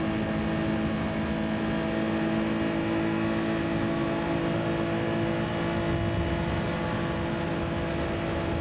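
Steady engine drone of race cars in a Le Mans video game, a continuous whining hum with a Ferrari and BMW nearby, holding a constant level throughout without pause.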